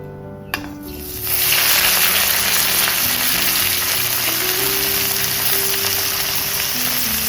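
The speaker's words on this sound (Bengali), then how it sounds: "এর মধ্যে কেটে রাখা পেঁয়াজ টমেটো দিয়ে দেবো" Chopped onion and tomato dropped into hot oil that already holds whole garam masala and bay leaves: after a brief clatter, a loud, close, steady sizzle erupts and continues unbroken.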